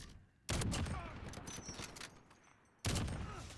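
Heavy AX50 sniper rifle shots in a battle royale video game. Two loud, sharp blasts sit a few seconds apart, each trailing into a long rumbling echo, with faint game sounds between them.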